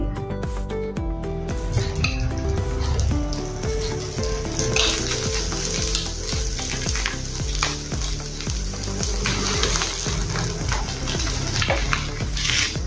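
Dosa batter of rice and puffed rice fries in a little oil on a pan, giving a continuous sizzle with occasional utensil clinks while music plays steadily over it.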